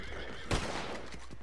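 A horse in the video game Red Dead Redemption 2 gives a loud, close whinny, with faint hoof clatter and game ambience around it and no speech.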